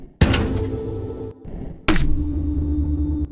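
Video game sound effects for cores being destroyed and a player dying in the game sventba: two loud, abrupt booming impacts with rumbling tails, separated by a brief gap.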